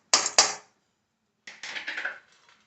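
Dry black gram and chana dal poured into a hot kadai: two sharp clinks, a pause, then a scattering rattle of lentils hitting the metal and settling, close and clear with no voices.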